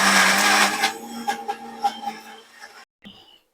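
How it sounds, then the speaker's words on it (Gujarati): A mixer grinder churns moong, green chillies, fresh coriander and curd with no water added, opening with a loud steady whir, then breaking into short pulsing bursts before cutting off near the end. "પાણી વગર જ આપણે બધી વસ્તુને પીસી લેશું"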